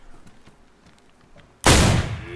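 A single loud, sharp video game gunshot bursts in after a stretch of quiet background noise, its broadband roar lingering to the end.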